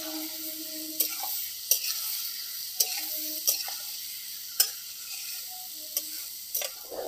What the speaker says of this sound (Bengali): কচুগুলোকেও আমি মশলার সাথে একটু ভালো করে কষিয়ে নেব।